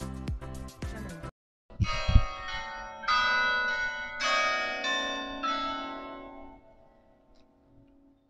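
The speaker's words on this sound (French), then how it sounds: "c'était le carillon de l'heure" Church bells of a carillon in Honfleur, Normandy, ring out the hour, with a run of overlapping strikes ringing on and slowly fading, following a brief burst of unrelated music at the start.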